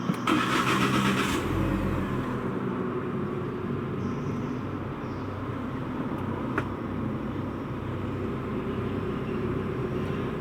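A Proton Iriz R3 Limited Edition 2021 car starts with a short cranking burst, then its engine settles into a steady, close idle hum that runs on without talk.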